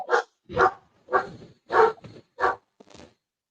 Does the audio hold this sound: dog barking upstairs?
yes